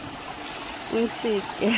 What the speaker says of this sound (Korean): 앞산에 오니까 물이 줄줄줄 흘러서 시냇물 소리가 너무 정답게 들리네요